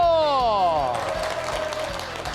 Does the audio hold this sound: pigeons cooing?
no